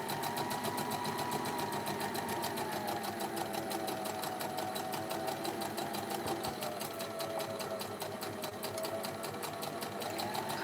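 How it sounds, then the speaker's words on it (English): Steady, continuous whir of a sewing machine stitching a vintage purse, a fast rhythmic needle chatter with slight speed changes, close and fairly loud throughout, with no talking. "I'm gonna sew at an angle and then sew straight"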